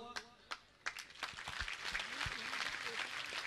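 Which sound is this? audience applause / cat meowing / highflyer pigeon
audience applause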